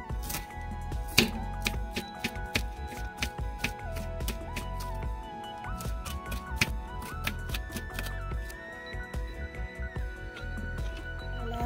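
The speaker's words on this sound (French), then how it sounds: "Je vais découper l'oignon vert." A knife chops green onion into small pieces for a steamed salmon and vegetable meal, making quick, repeated taps on a board beneath steady background music.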